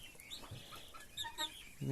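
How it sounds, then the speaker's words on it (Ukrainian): Soft clucking and chirpy calls from a white Cochin hen close by, with a low voice briefly murmuring near the end. "І ось курочка, біла кохін-хін."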